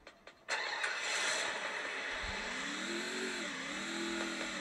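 Motorbike engine in a mobile video game starting up after a few clicks, then a steady loud revving drone that rises and dips as the bike accelerates.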